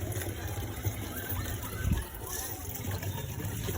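Spring water trickles and splashes softly as it is collected, a steady low wet flow with faint talk nearby.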